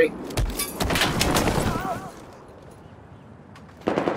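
Shotgun blasts in Battlefield 4 gameplay, several sharp booming shots in quick succession at close range, then a quieter stretch before another burst of gunfire at the end.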